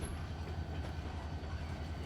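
A freight train moves along railroad tracks with a continuous low rumble, close and steady, and no distinct clicks or horn.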